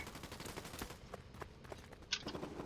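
Distant rapid gunfire in Fortnite, a rattling string of quick shots at moderate volume with a sharper crack near the end.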